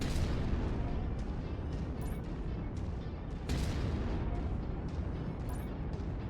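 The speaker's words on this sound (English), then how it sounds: "Did you see all the explosions come out of the building?" Explosions burst out of a building hit by a big gun in the MechWarrior 5 video game: dense, continuous rumbling blasts with sharp cracks layered over a roaring, loud wash of noise.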